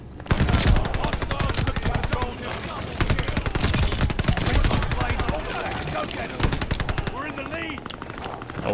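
Rapid automatic gunshots from a gun in the video game Call of Duty: Vanguard crackle in dense, loud bursts, easing off near the end, with someone speaking over the fire.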